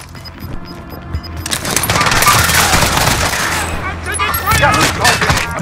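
Loud, close gunfire in Call of Duty Warzone on Rebirth Island, rapid automatic bursts rattling in a sustained volley amid battle noise after a quieter opening.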